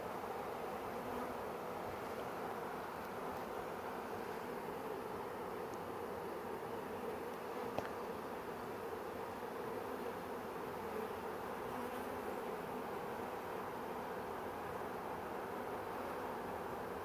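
A captured honey bee swarm buzzing around its hive, a steady dense hum of many bees close by, continuous and even throughout with one brief click partway.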